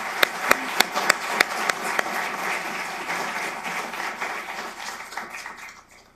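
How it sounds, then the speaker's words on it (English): Applause for a detention center graduating class, opening with a few sharp, distinct claps that swell into a thick wash of clapping before tapering off and fading to near silence at the end. "worthy and deserving of another round of applause"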